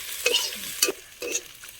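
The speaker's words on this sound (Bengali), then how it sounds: "আবারও একটু রসুনটা পেঁয়াজের সাথে ভালোভাবে ভেজে নেব" Crushed garlic frying with onions in a pan, a soft sizzle broken by three quick stirring scrapes, close and fairly quiet with no talk.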